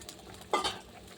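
A katla fish curry with cauliflower and potato bubbles in a pot after tempering, a brief soft burst of bubbling and a faint clink of a spoon against the pan, quiet and close.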